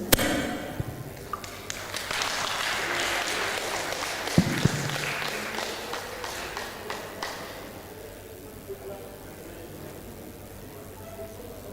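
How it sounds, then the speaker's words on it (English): Seminar attendees at a biochar carbon capture event give a round of applause that starts strong with a sharp thud early on, then thins out and fades to quiet room noise. "Ladies and gentlemen, give a round of applause."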